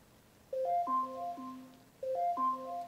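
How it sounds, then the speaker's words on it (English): A smart speaker alarm chimes indoors, playing a bright, melodic pattern of pure tones that repeats twice, clear and moderately loud with no talking over it. "Oh, that's my alarm."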